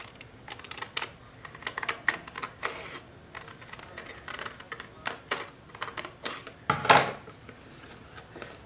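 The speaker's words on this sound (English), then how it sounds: "and just use my scissors to cut this out." Scissors snipping around a printed photo by hand for a scrapbook page, a series of short, close crisp cuts and paper rustles spaced irregularly, with one louder rustle near the end and no talking.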